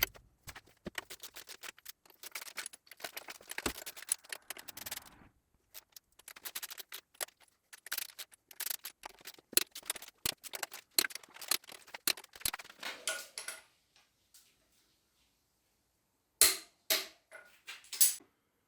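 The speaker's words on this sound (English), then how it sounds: "So we now need to start the torquing sequence to tighten it down, which goes up in stages to its final torque." A torque wrench tightens the cylinder head on a Gardner 6LXB 180 diesel engine in stages, producing rapid bursts of close ratcheting clicks with brief pauses between pulls, ending in a silent gap and then a final few clicks.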